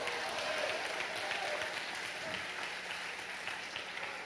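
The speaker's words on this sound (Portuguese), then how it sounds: "Pode aplaudir, fica em pé, glorifica" A church congregation applauds during a worship service, steady dense clapping that holds at an even level throughout.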